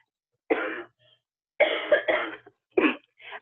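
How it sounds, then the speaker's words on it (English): Several harsh coughs in separate bursts, a single cough, then a pair, then another cough starting at the end, close and fairly loud with short silences between. "So I'm coughing."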